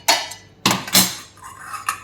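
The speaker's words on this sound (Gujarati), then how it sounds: "આવી રીતે ચમચો ફેરવી અને નીચે સરસ આપણે પલ્પ મેળવવાનો છે." A metal spoon clinks and scrapes against a pot or strainer while pressing black grape pulp for sherbet. Three sharp knocks ring out, followed by softer scraping, close and clear with no talk.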